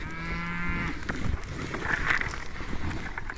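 A cow on a pasture farm gives a loud, drawn-out moo up close, followed by rustling and wind buffeting the microphone.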